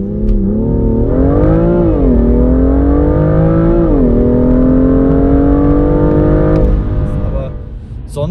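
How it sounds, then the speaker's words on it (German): A BMW E90 330i engine heard from inside the cabin, a loud, smooth drone that rises in pitch as it revs, dips, then climbs again before easing off near the end. "sonst so der Sound vom Innenraum her, dass das Auto von sich gibt"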